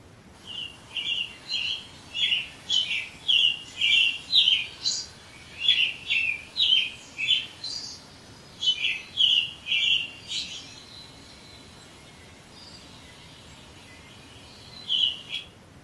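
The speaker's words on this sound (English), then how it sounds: "It is a bird. It's the robin," An American robin sings a clear series of short, warbling phrases in steady rhythm, then pauses before one final phrase, heard alone over quiet background hiss.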